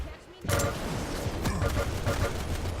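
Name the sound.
machine gun fire in a Quake-style duel video game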